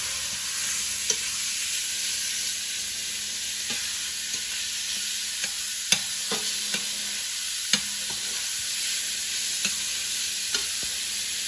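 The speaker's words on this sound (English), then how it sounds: "A little bit of oil. I'm mixing it, letting it get coated." Ingredients sizzle in oil in a pan while being stirred, a steady bright frying hiss broken by scattered scraping clicks of the utensil against the pan, close and clear.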